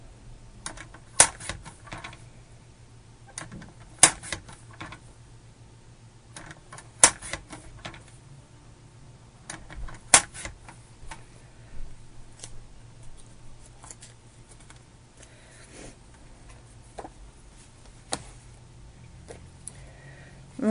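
A paper trimmer slices cardstock from a CTMH Ivy Lane pattern in sharp isolated cutting clicks spaced a few seconds apart, with quieter handling rustles and taps between them in a quiet room.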